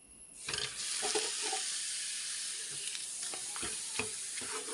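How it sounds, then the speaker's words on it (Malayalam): Pappadam fries in hot oil in a small pan, a continuous crackling sizzle that swells after a quiet start, with occasional sharper pops and stirring clinks up close. "ഒന്നും കൂടെ പൊരിക്കട്ടെ കേട്ടോ ഈ ചെറുത്."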